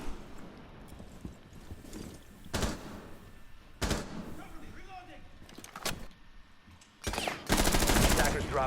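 Gunshots in a competitive video game esports match, with scattered single shots and short bursts of fire, some loud and close, under excited commentary from a caster.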